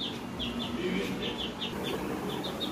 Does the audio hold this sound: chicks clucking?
yes